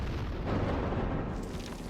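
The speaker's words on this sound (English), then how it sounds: "Explosions." Explosions in the video game The Thing Remastered, a loud, deep rumbling blast that fills the low end and rolls on continuously without clear separate hits.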